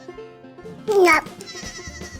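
A goat gives a single short, loud bleat in the middle of the clip. A voice speaks briefly before it, with soft background sound around it.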